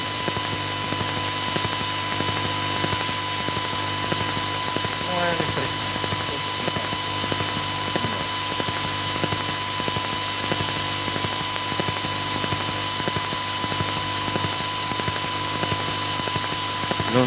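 A household electric fan running on its low setting makes a steady, even mechanical hum with faint whirring, constant and close throughout with no breaks.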